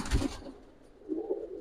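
A Teddy high flyer pigeon, a young Pakistani high flyer, gives two soft, low coos close by, the first a brief burst and the second a longer murmur after a short pause, with no speech.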